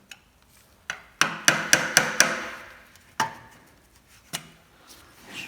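Sharp metallic taps and knocks ring out from a 2.7kVA generator with no voltage output as a screwdriver is worked into a gap to pry a part open, a quick cluster of hits followed by a few sparse clacks.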